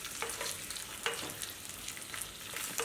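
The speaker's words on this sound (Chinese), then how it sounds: "将蒜片和洋葱块放入到油锅内，再加几片姜，用小火炒制" Garlic slices, onion chunks and a few slices of ginger frying in oil in a pan over low heat, a steady soft sizzle broken by occasional stirring scrapes.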